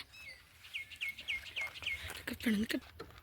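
Small weaver birds near roadside nests in rural Tamil Nadu give a rapid series of high, thin chirps, followed by a few lower, harsher calls, moderately close, over faint background noise.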